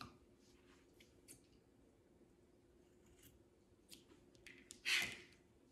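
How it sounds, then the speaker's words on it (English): A few quiet, brief snips of scissors trimming yarn, scattered irregularly, with one sharper, louder cut toward the end. "I'm going to take my scissors and I'm going to trim back about another 1/2 inch"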